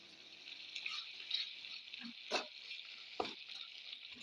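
Squid frying in a pan with masala and curry leaves, a steady close hiss of sizzling oil broken by a few soft scraping clinks as the mixture is stirred.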